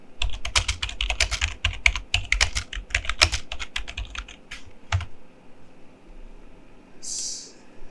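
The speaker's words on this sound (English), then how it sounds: "Hold on, let me type it in." Fast typing on a computer keyboard, close and crisp, a dense run of key clicks for about five seconds, then near quiet with a short hiss at the end.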